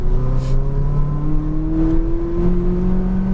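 A McLaren 570S accelerates on a race track, its engine note rising steadily in a loud, continuous onboard drone with climbing harmonic pitch and no talking.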